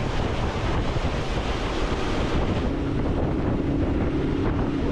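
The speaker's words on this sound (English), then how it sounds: "now a big old squall's come through" Squall wind and breaking waves sweep through a camp in the Australian outback, a steady loud roar of gusts and surf with rumbling low buffeting on the microphone throughout.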